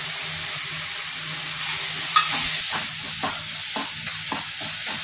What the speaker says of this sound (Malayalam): നമ്മൾ നേരത്തെ പൊടിച്ചു വെച്ച കാഷ്നട്ടും ബദാമും ഇടാം.